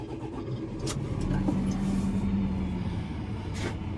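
A farm vehicle's engine fires up and settles into a steady running rumble, close and fairly loud, with a few sharp clanks and knocks around it.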